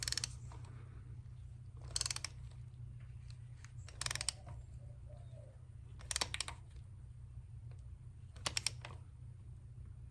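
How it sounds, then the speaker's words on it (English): Quiet ratchet clicks tightening a spark plug on a 2018 Toyota Yaris iA 1.5L, short bursts of clicking about every two seconds over a steady low hum. "we'll put a ratchet on it and we'll give it a good little tightening here"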